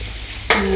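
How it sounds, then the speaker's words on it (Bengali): Potatoes frying in hot oil in a pan give a brief, close hissing sizzle that suddenly swells as stirring begins. "যে এখানে আমি আলু ভাজা বসিয়েছি"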